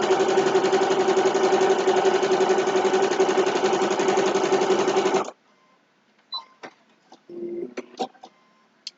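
A home sewing machine quilting a two-fabric potholder runs loud and continuous for about five seconds, then stops, followed by scattered clicks and handling noises.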